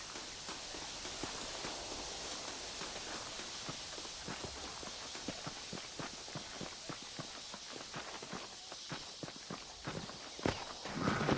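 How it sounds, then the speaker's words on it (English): Horse hooves clip-clop at a quick, uneven pace in Red Dead Redemption, a run of faint, sharp knocks over a hissing wind-like background, growing busier toward the end. "There should be some horses for us across the way."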